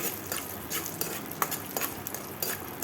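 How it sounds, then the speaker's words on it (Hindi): Peanuts frying lightly in hot oil in a kadai, with a steady soft sizzle and occasional scrapes and clinks of a spoon stirring against the metal pan. "अब इसमें हम इस मूंगफली को हल्का सा भून लेंगे, हल्का हल्का फ्राई कर लेंगे"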